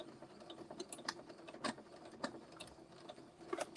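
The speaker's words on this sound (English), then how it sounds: "Okay, I'm still back stitching here." A sewing machine back stitching makes quiet, irregular clicking and ticking, with short sharp taps scattered over a faint background.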